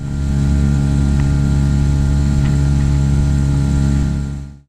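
An outboard motor drones steadily on a sailing boat on Loch Earn, a loud, even, close-up hum that runs without a break and then cuts off at the end.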